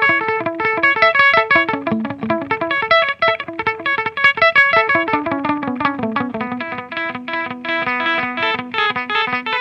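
Electric guitar played through an Aalberg Audio EKKO digital delay pedal set to a short slapback echo with high level and low feedback: a loud run of melodic picked notes with quick repeats and a distorted edge, no talking.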